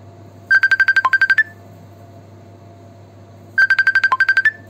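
A mobile phone ringtone sounds in a kitchen, two loud bursts of rapid electronic beeping separated by a few seconds of quiet background hum, with no talking.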